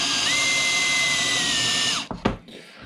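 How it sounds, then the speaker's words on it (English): A power drill with a Forstner bit bores a shallow flat-bottomed counterbore in a wooden drawer front, a steady close whine for about two seconds before spinning down, followed by a couple of brief knocks. "Forstner bit and drill a counterbore or a flat bottom hole about 3mm deep."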